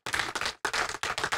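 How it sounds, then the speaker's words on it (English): A church congregation clapping hands together at a Sunday worship service, in brisk rhythmic bursts of claps broken by short pauses, fairly close and without talk. "Clap your hands for Jesus Christ."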